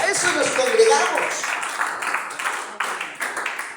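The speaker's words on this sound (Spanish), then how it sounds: "Dele ese aplauso al Señor si así lo cree." Church congregation clapping together in a dense, sustained round of applause that thins toward the end into scattered, sharper individual claps.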